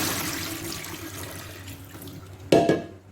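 Water pours off soaked fava beans being strained, a steady rushing flow that thins out, then a sudden louder splash near the end before it fades.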